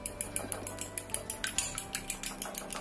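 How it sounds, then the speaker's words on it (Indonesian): Eggs with salt and seasoning are beaten in a bowl, a quick, even run of light metallic clicks and taps from a utensil against the bowl, close and fairly soft, with no voices. "Kita kocok seperti ini"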